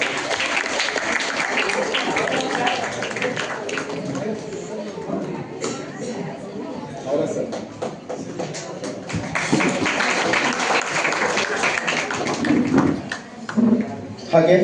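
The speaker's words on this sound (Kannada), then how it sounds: "ಜೋರಾದ ಚಪ್ಪಾಳೆ ಮುಖಾಂತರ ಸ್ವಾಗತಿಸೋಣ" An audience at a government college function claps steadily to welcome the principal, sustained applause with a voice speaking over it.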